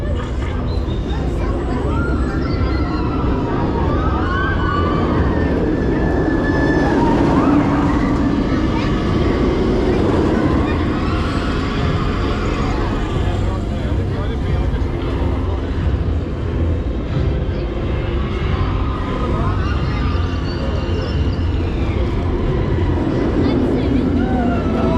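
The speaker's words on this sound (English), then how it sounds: "We've just started on row 8 ride on Nemesis, first train of the day." Nemesis roller coaster at Alton Towers on the first train of the day, heard from row 8 as a steady, loud rumble of track roar and wind under rider noise and screams, sustained with no breaks.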